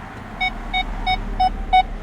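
A high electronic reverse parking sensor buzzer on a 2007 Nissan Maxima beeps steadily, about seven short tones at an even pace, close and clear over a low hum.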